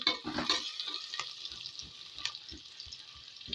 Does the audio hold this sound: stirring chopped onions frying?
yes